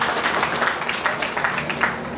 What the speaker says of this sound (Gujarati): એમનું પણ આપણે જોરદાર તાળીઓથી સ્વાગત કરીએ છીએ